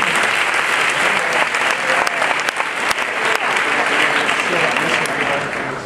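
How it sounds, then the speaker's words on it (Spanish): Audience at a business talk applauding to welcome a speaker, a dense, loud, continuous wash of many hands clapping throughout, with a few sharper individual claps near the middle and a slight fade at the end. "Vamos a dar un aplauso a Juan Luis Polo, CEO de Territorio Creativo"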